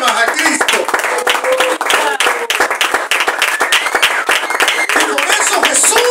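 Church congregation clapping as an offering of applause to Christ during a sermon, loud dense rapid handclaps sustained for several seconds, with voices calling out beneath them.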